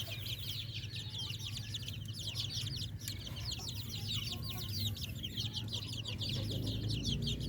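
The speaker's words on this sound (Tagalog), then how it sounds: "Masisigla yung mga sisiw natin na yan." A flock of three-week-old pure Darag chicks chirps and peeps busily and continuously, their high calls dense and lively over a steady low hum from the surroundings.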